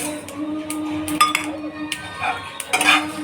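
Sesame seeds roasting in a pan for a spicy Maharashtrian brinjal curry, heard as close metallic clinks and scrapes of a utensil stirring against the pan over a low steady sizzle, with several sharper clatters.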